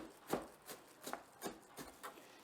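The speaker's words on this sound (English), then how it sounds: "you want your dicing to be relatively even, so you want all your things very similar in size" A knife dicing onion and tomato for pico de gallo on a board, with a steady series of about seven crisp, close chops at an even rhythm, with nothing else heard.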